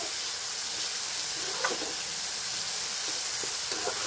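Soybean and potato curry with melted tomato sizzles steadily in a pan over a low flame, with a few soft spoon scrapes as it is stirred.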